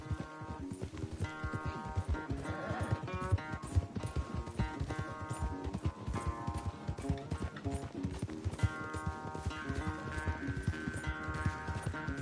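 Horses galloping hard in a race in Red Dead Redemption 2, with rapid, continuous hoofbeats drumming close and loud throughout, layered over a sustained melodic game music score.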